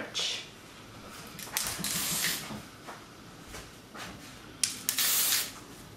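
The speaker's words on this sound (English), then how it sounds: "Now we're gonna hose her down with the hairspray." Hairspray from an aerosol can sprayed onto hair while styling prom waves, heard as several hissing bursts of varying length, the longest near the end, close to the microphone with no talk.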